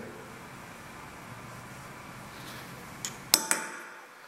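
A cheap small hammer taps a punch to mark the center on a metal workpiece before a screw extractor test, giving two or three sharp metallic clinks close up near the end, after quiet shop ambience.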